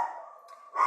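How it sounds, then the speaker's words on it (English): A dog barks nearby in a short burst, with a louder yip-like bark at the end and no speech over it. "We'll let them stop barking."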